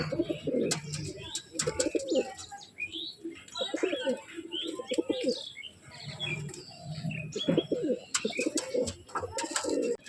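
Madras pigeons coo in repeated soft, throaty bursts close by, with chirps and a brief flutter of wings between calls. A faint voice is heard in the background.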